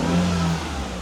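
A rebuilt rotary engine in a project car runs steadily close by, a short smooth idle-to-rev hum with a low pulsing drone and no voices.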